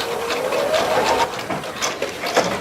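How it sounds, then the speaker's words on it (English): A sewing machine stitches a button vent through layered fabric, a close, steady mechanical whir with a rapid needle rhythm running without pause. "First I'm just going to stitch up to my diagonal line."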